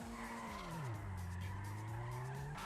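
A car drifting in GTA 5, with loud sustained tire squeal and skidding over an engine tone that drops and then climbs again, and no talk.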